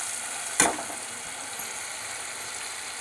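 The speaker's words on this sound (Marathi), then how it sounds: "कढईत तेल ओतून घ्यायचं आणि हे वाटण टाकायचं" Ground masala paste hits hot oil in a wok while egg masala is being cooked, giving a sharp burst of sizzling followed by softer spattering and crackle, close and alone.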